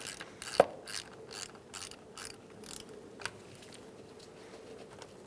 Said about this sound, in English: Using an 8mm socket or wrench, you're going to disconnect your negative battery terminal.